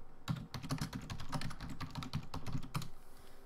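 Fast, steady typing on a computer keyboard, a dense run of clicking keystrokes heard alone at close range for about two and a half seconds before stopping.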